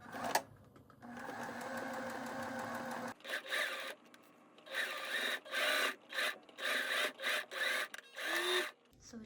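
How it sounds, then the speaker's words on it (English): A sewing machine top-stitches fabric lamp shade panels: a long steady whir at first, then a series of short stitching bursts with brief pauses between them, close and clear with no talking. "now I'm gonna go in and top stitch this down."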